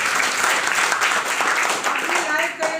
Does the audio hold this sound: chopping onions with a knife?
no